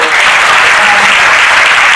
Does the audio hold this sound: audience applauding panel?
yes